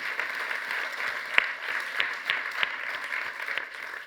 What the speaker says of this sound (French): Je pense qu'on peut les applaudir pour le travail qu'ils ont pu réaliser.